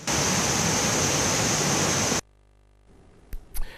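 Water gushing down the Kintampo waterfall in Ghana makes a loud, steady broadband roar for about two seconds, then cuts off abruptly into near silence with a few faint knocks at the end.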